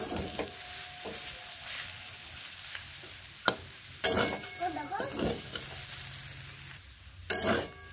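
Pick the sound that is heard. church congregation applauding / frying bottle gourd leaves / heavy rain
frying bottle gourd leaves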